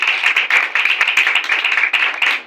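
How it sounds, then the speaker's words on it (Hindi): A church congregation claps loudly and steadily in sustained applause during a worship service, a dense, continuous patter of many hands close by with no voices over it. "आए जोरदार ताली बजाए खुदा के कलाम के लिए"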